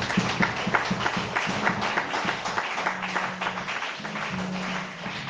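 A church congregation applauds with sustained, dense clapping that fills the room evenly, while a low sustained musical tone hums beneath it.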